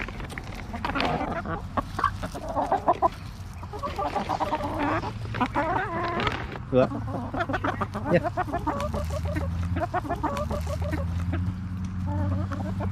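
Backyard flock of year-old chickens and a rooster clucking and chattering continuously near a feeder, dense overlapping bird calls throughout with brief human voices over them.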